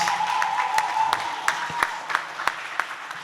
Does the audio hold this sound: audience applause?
yes